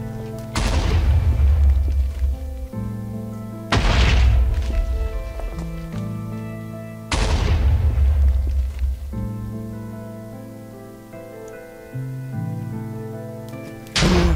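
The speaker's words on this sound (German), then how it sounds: "Der schießt immer noch." Gunfire in the Minecraft Hexxit modpack: three heavy booming blasts spaced a few seconds apart, each with a long rumbling decay, over steady sustained game music tones, loud and close with no talk.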